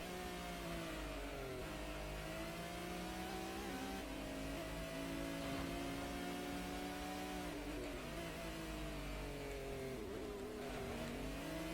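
Race cars, including a Honda NSX, circle a track in a hard-tuned car speed contest in Gran Turismo, engines droning and revving continuously at a faint, steady level.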